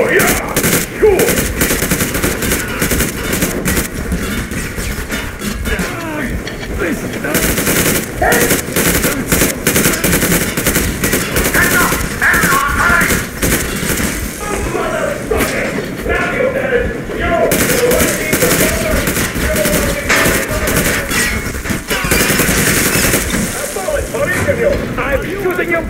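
Machine gun fire in the video game Metro Exodus, loud and sustained rapid bursts rattling throughout with explosive crackle, voices shouting over the shooting.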